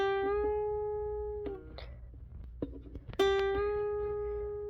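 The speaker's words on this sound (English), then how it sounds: "When you bend the note, it'll sound like this." A single guitar note rings clearly, then is bent upward in pitch and sustains, followed by soft string handling noises and a second plucked note that is bent up again.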